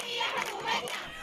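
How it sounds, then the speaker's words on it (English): Street protesters in Khartoum shout together as a loud, dense crowd, their massed voices rising and falling over a brief burst. "On the streets of Khartoum today, protesters shouted the country belongs to them, rejecting a return to autocratic rule."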